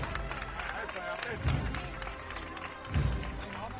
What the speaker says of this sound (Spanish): Y ahora los aplausos y el himno nacional.